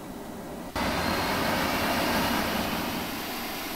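In the Take on Helicopters simulator game, a helicopter APU kicks on abruptly and settles into a loud, steady turbine whine and roar over a quieter background hum.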